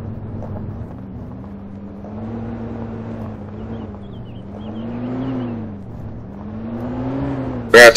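A car engine in DayZ revs and drones steadily, rising and falling in pitch over several seconds, with a sharp burst at the end.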